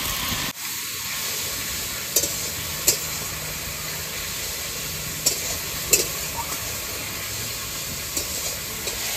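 Dried red chillies, whole cumin, ginger paste, cumin paste and chilli paste sizzling in a pan for a Bengali banana-flower curry, a steady broadband hiss with a few sharp spits and stirring clatters, no voices.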